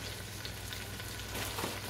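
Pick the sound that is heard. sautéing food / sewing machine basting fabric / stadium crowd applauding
sautéing food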